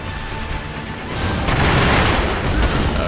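A firecracker goes off in Sekiro: Shadows Die Twice, a loud booming burst swelling over dense game noise and then rumbling on without clear separate pops.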